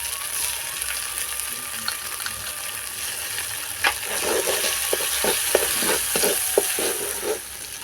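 Poppy seed and peanut paste sizzles in hot oil for a Bengali doi potol curry, a steady frying hiss broken by a run of soft scraping stirs toward the end, fairly close with no talk.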